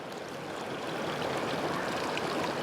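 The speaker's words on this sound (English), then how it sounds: "so I'm now finally in the river" River water rushes over rocks in Glen Etive, a steady close broadband hiss and gurgle with no pauses.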